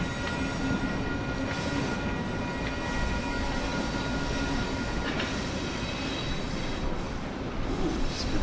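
Trains pass by at Wollaston Circle with a steady loud rumble of railcars, wheels rolling and faint squeals over the rails, continuous for several seconds, no voices.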